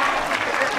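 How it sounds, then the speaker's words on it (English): A children's audience at a department-store animal show claps together in a brief, dense burst of applause, loud and even throughout. "give her a big round of applause"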